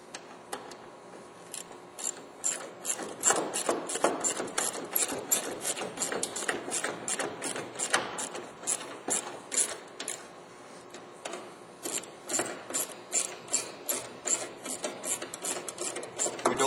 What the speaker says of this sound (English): let's get our 8mm screws back in.